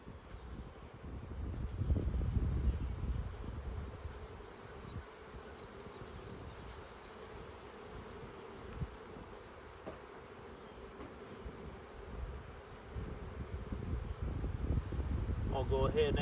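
Honeybees hum steadily in a dense, low drone close by at a hive on a farm, with wind rumble and a few soft background noises and no clear talk.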